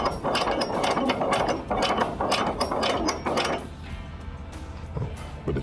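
Ratchet strap being cranked tight on a flatbed truck load, a quick run of loud metallic clicking ratchet strokes in bursts, then a quieter pause near the end.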